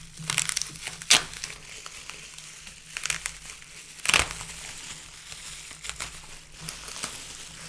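Book packaging being unwrapped in close, soft crinkles and crackles, with sharper plastic crunches at irregular moments over a quiet background.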